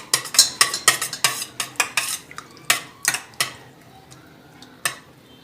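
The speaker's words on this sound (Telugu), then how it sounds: "ఒకసారి బాగా కలుపుకుందాం" A spoon stirs little millet ambali with onions and green chilli, making a quick run of sharp metallic clinks against the vessel that thin out and slow near the end, close and clear with no talk.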